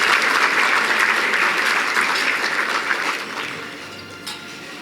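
Applause at a gala honouring the Pfister team, a full crowd clapping loudly and steadily before it thins out and fades near the end.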